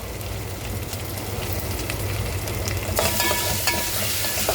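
Ginger and garlic frying in a pan give a close, continuous sizzle that grows brighter and louder partway through, with stirring noises and no voices.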